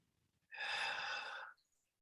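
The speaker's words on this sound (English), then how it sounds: "Take a deep breath in there." A single deep inhaled breath during a guided relaxation exercise, close and breathy, swelling in for about a second after a quiet start and then stopping into near silence.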